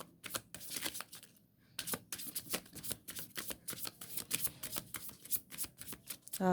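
Tarot cards are shuffled and drawn in a rapid run of crisp riffling and slapping card sounds, close and steady throughout, with no voices.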